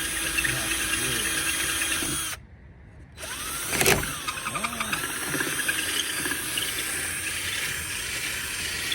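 A power drill runs during installation of a wickerbill spoiler on a Hellcat Charger. The drill whirs steadily and fairly close, with a brief pause and a sharp mechanical burst midway, then continues.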